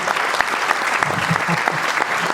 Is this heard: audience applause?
yes